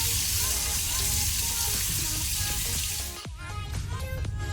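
Garlic and urad dal frying in oil over a low flame, a close, steady hiss of sizzling that softens near the end as a few clinks and stirring sounds come through.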